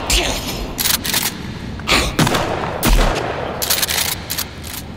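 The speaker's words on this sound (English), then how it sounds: "Put the shotgun back on. We're switching to buckshot." Shotgun blasts loaded with buckshot in the survival game Sons of the Forest: several loud, sharp broadband booms spaced about a second apart, each with a short decaying tail over steady background game noise.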